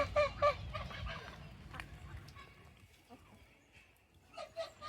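Several geese honk loudly at Mudchute Farm in a burst near the start, then quieter scattered honks follow, with another short honking burst at the end.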